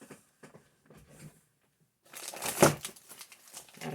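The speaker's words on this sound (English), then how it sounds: "I wrap the butcher paper around the cup tumbler like so" Butcher paper crinkles and rustles as it is wrapped around a tumbler, starting with a few soft isolated crackles and then becoming a denser, louder burst of crumpling close by.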